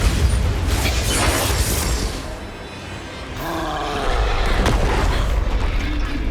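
A Bombarda blasting spell exploding in the Hogwarts Legacy video game, a loud sustained booming roar with rumbling low end that dips briefly mid-way, then swells again with crackling debris.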